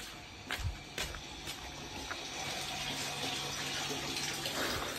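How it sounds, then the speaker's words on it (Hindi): Water runs steadily into an air cooler's tank, a quiet continuous trickle and splash after a few brief knocks at the start. "तो इसमें पानी भर देता हूँ मैं अभी"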